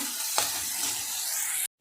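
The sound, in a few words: onion frying in a pan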